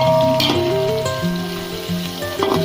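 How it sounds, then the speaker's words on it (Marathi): Mixed vegetables, potato first, stir-fried in hot oil with garam masala for veg pulao, giving a loud, steady sizzle that runs throughout with stirring noises and some tonal background sound. "आता सर्व भाज्या एकत्र परतून घेत आहे."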